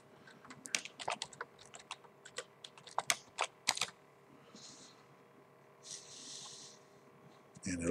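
Password typed on a computer keyboard while logging into a VMware virtual machine, a quick irregular run of close, crisp key clicks followed by a few softer sounds and a quiet breath.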